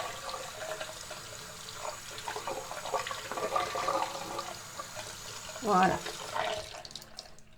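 Hot water runs from a tap into a sink in a steady, soft gush, with a louder splash partway through and a person speaking briefly and quietly over it.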